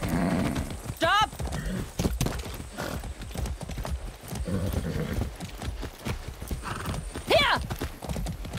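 A horse in the video game Far Cry 6 gallops with a fast, steady clip-clop of hooves and lets out two loud whinnies, early and late, while someone talks in the background.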